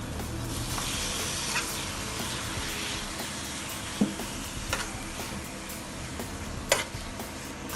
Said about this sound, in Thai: ผัดให้เขาติเข้ากับตับเนาะ